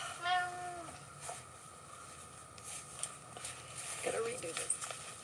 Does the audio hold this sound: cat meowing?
yes